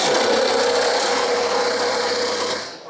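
A compact Milwaukee power tool running continuously at high speed, a loud steady rasping whine held for nearly three seconds before winding down, with no voices.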